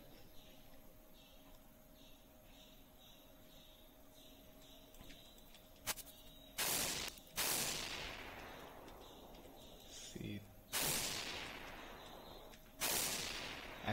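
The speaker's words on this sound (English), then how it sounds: "As we hit the enemy, the explosion sound is coming." Explosion and bullet-firing effects from a Game Maker 8 game: four sharp, noisy blasts that fade quickly, spaced a few seconds apart after a quiet stretch of faint electronic hum.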